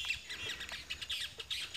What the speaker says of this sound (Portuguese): Aqui no local que eu tô tem bastante passarinhos, aves, e eles falam alegria